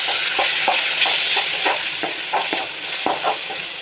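Dried prawn thokku simmers and fries in oil in a pan, a continuous close sizzle broken by irregular soft bubbling pops and stirring scrapes throughout.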